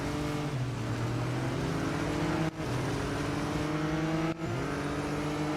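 A McLaren race car engine in Real Racing 3 roars loudly and steadily, its pitch climbing through gears with two brief sharp cuts at shifts, no speech.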